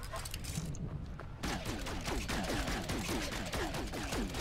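The boltcaster weapon in the video game No Man's Sky fires a rapid, regular string of shots, each a short crack with a falling whine, steady and fairly loud over a constant background hum.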